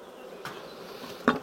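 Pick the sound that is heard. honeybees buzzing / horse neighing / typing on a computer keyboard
honeybees buzzing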